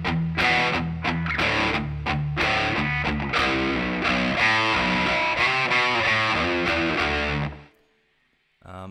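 Distorted electric guitar plays a bridge riff, loud, punchy repeated picked notes for about seven seconds before cutting off to silence.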